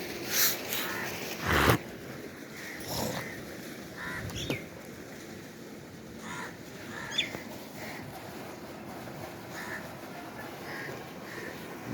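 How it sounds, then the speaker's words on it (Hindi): Scattered bird calls, including harsh caws, sound outdoors at moderate distance over quiet background noise, with a few louder bursts early on. "परिंदे चहचहा रहे हैं सुबह सुबह।"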